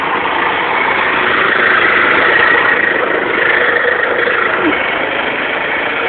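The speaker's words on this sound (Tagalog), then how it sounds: "Isang bulok at karag-karag po na motorsiklo dumaan sa Las Vegas" An old, rattling motorcycle passes by in Las Vegas, its engine a loud, steady droning rumble that swells briefly and holds throughout.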